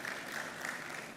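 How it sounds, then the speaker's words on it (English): Retail conference audience clapping for themselves, a brief dense patter of many hands at moderate distance, steady and uninterrupted with no voices over it. "You can clap for yourselves."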